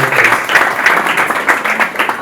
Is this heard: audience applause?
yes